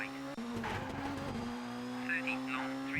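Rally car engine held at high revs while waiting at a stage start in Colin McRae Rally 2.0, a steady, loud mechanical drone with faint tire noise and a voice talking over it.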